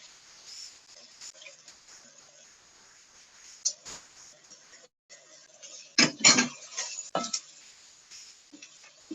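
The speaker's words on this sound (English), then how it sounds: "So make sure you stir those in really well." Spoon stirring ingredients in a cooking pot, with scattered light clinks and scrapes of cutlery against the pan, a louder burst of clattering in the middle, and faint background noise between strokes.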